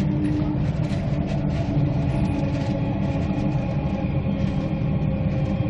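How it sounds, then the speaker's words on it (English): Suburban train passing the other way on a line near Brisbane, heard from aboard a moving Brisbane-to-Nambour train as a loud, continuous rumble and rushing roar with no talking. "And there's a train coming the other way too,"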